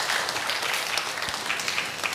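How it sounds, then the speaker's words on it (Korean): A congregation in a Korean Methodist church gives warm, sustained applause, a dense wash of many hands clapping together at moderate distance. "한번 뜨겁게 박수 한번 부탁드리겠습니다."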